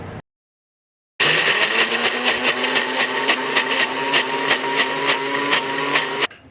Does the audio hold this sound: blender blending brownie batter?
yes